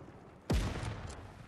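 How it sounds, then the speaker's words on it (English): A single loud gunshot blast from a video game firefight, a sudden sharp boom followed by a sustained rumbling decay and faint trailing echoes, heard without talk. "I see lots of gunshots."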